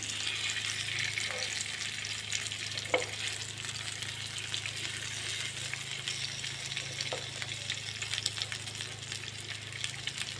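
Fish pieces fry in a pan of hot oil for a masala fish curry, a steady even sizzle running throughout with a couple of faint utensil clicks.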